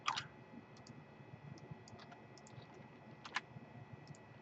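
Sparse keystrokes and clicks on a computer keyboard tap out quietly in a room, with a sharper cluster at the start and another near the middle, scattered light ticks between them and faint background hum, no voices.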